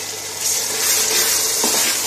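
Ginger garlic paste masala sizzles and fries in a pan while being stirred, a bright continuous crackle with soft scraping, heard close with no talking.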